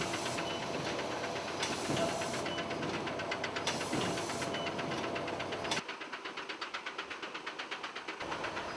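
A ULF-Tec UM80 bag filling and sealing machine runs with a steady hiss and mechanical clatter, close and continuous, and changes near the end to a quieter, rapid rhythmic ticking.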